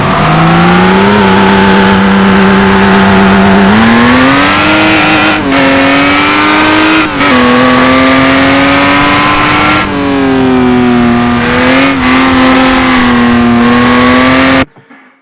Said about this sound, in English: Alright guys, for this next car we're going to go vintage. Cooper T81 Formula 1 car.